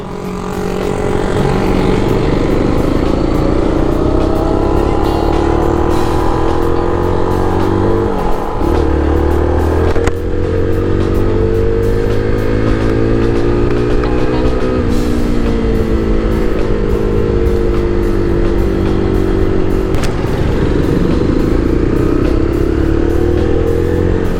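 Zontes 310R motorcycle engine on a test ride, steady loud drone with rising and falling pitch as the rider revs and shifts through gears, continuous throughout with no talk.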